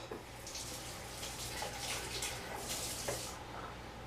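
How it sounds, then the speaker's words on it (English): Fingers rinsed under a running kitchen tap during cookout food prep, a steady close wash of flowing water lasting the whole moment with no talking. "Last but not least, let me rinse my fingers off."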